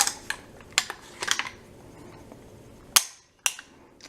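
An AR-15 rifle bolt is pulled back and locked, giving sharp metallic clacks and clicks, several quick snaps spaced over a few seconds, close and crisp against a quiet room.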